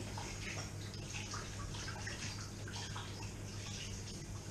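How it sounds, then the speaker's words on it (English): Tap water runs steadily into a sink while hands are washed in a home kitchen, a constant faint hiss and splash with no talking. "I'll wash my hands."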